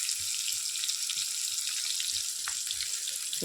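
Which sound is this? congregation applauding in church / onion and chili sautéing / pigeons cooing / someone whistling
onion and chili sautéing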